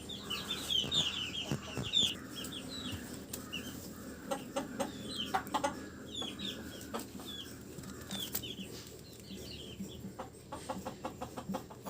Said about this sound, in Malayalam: മുട്ടയിട്ടതിൻ്റെ ബഹളമാണ് ഇപ്പോൾ കണ്ടത്. ഇത് നമ്മുടെ കാപ്പിരിക്കോഴിയാണ്